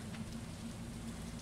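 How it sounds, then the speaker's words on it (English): Steady rain in the farming game Stardew Valley makes a soft, even hiss with no pauses and nothing else over it. "more rain."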